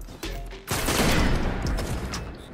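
A shotgun fires in the video game Destiny, with a sharp blast followed by a second heavy boom that rolls into a long, loud roaring decay. No one speaks over the shots.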